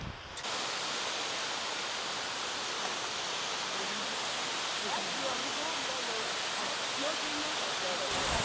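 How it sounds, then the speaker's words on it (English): Kintampo falls in Ghana, a steady, dense roar of flowing water that stays constant and close throughout, with faint voices barely audible beneath it. "Can you hear the water? Because I can hear the water already."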